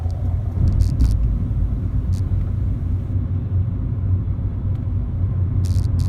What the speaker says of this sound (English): So there's a lot happening. There's traffic,